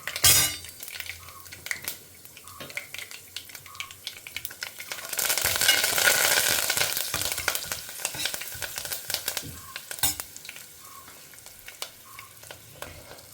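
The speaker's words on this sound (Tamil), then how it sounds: "கடுகு பொரிய ஆரம்பிச்சிடுத்து." Mustard and fenugreek seeds spluttering in hot oil, with scattered pops and crackles, a swell of louder frying in the middle, and occasional clinks of a utensil against the pan.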